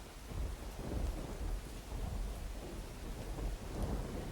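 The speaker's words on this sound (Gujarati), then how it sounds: "વરસાદ વરસતો જોવા મળી રહ્યો છે" Steady heavy rain pours down in Tapi, Gujarat, with a dense, hissing roar and low rumbling underneath, no voices.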